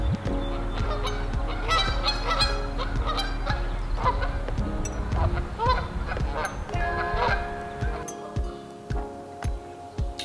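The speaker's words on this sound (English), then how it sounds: "The geese are walking in the yard." Geese honk repeatedly in a yard, a loud, busy chorus of overlapping calls that thins into scattered honks toward the end, with faint background noise.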